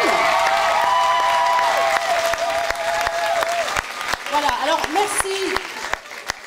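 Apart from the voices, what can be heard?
audience applauding loudly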